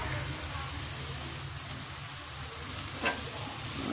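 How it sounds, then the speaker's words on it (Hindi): Garlic paste frying with lightly browned onions in a pan for a masala kaleji dish makes a steady, dense sizzle throughout, close and even, with a brief louder crackle near the end. "अब इसमें हम लहसुन शामिल कर देंगे"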